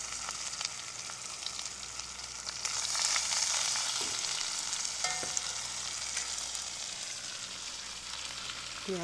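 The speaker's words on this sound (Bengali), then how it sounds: "পেঁয়াজ দিয়ে দিলু" Onions hit hot oil with bay leaf, cumin and a little sugar in a pan for Bengali-style mutton kosha. The sizzle is loud and steady, swells briefly, and carries a few soft stirring scrapes.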